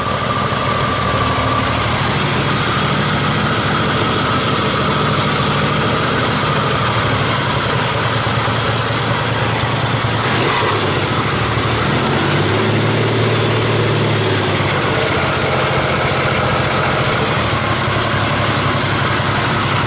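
A Yamaha XS850 motorcycle engine with freshly installed carburettors idles loud and close for about twenty seconds, a steady, slightly uneven and spluttery running note.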